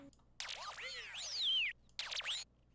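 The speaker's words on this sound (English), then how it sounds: "Last thing that we have going on, guys, is the alien sounds." Synthetic alien sound effects in an FL Studio beat play as two bursts of swooping, warbling electronic tones, loud and isolated, separated by a brief silence.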